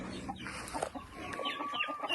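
Farmyard chickens cluck and chatter nearby, several short irregular calls overlapping in quick succession outdoors on a smallholding, with no talking.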